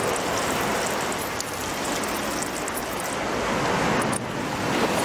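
Waves crash steadily against a rocky Caribbean shore in a continuous, loud wash of surf with gusty wind noise and no voices.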